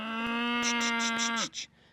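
A single cow gives one long, loud, steady moo close by, holding its pitch before dropping off abruptly into quiet outdoor background, with no talking over it.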